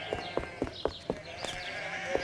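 Sheep bleat in a cartoon countryside scene, several short calls coming in a quick, regular series and then one more after a brief pause, fairly close and clear with no speech over them.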